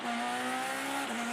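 A rally car charges through a stage of the 2013 European Rally Championship in France, its engine a sustained, strained howl that dips briefly in pitch near the end of a short burst.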